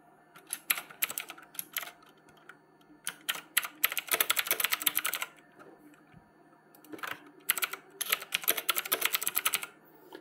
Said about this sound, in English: so I have typed in the password.